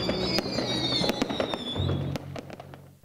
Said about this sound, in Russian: Завершился праздник под яркие залпы салюта. Небо над елкой раскрасил фейерверк